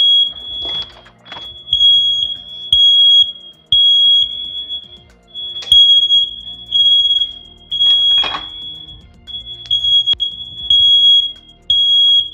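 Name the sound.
smoke alarm beeping from oven heat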